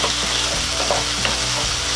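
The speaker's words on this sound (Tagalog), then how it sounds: "Kaya po pala natin hinahalo ito kasi para hindi dumikit itong ating patatas dito sa kawali." Potatoes for corned beef hash sizzle in a pan with little oil while being stirred, a constant close frying hiss broken by scraping and shuffling strokes.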